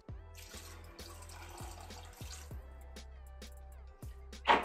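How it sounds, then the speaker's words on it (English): Water pours into a pot of rice and black beans for Dominican black rice, a thin steady trickle with dripping and bubbling that ends in a brief splash. "I'm gonna add like half a cup of water more."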